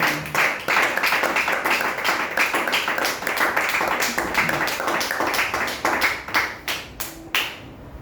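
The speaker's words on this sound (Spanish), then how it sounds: "Denle aplausos al Señor" Congregation clapping in applause during a church sermon, a dense, steady run of claps lasting several seconds before thinning out into a few scattered claps at the end.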